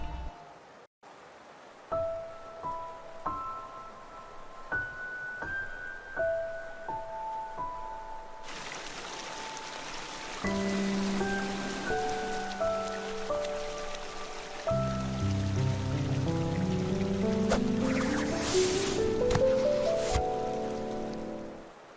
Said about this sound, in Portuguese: é possível ver que essa chuva não vai acabar tão cedo